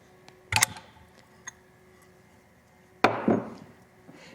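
Metal spanner wrenches loosening the collar of a coreflood cell give two distinct metallic clanks with a short tick between, in a quiet lab setting.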